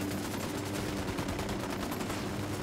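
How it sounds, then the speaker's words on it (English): Sustained bursts of automatic gunfire in Ghost Recon Wildlands, steady and dense throughout with no talking. "Opening fire on these fuckers"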